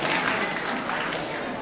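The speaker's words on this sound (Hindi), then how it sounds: "आप पुरजोर तालियों से उनका इस्तकबाल करें।" An audience at a Gandhi Jayanti poetry gathering applauds to welcome a poet to the dais, a loud, dense burst of clapping with crowd noise mixed in, short and sustained.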